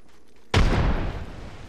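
A frag grenade goes off in Apex Legends with a single loud, close blast that breaks a near-silent lull, then rumbles and fades gradually into a lingering tail.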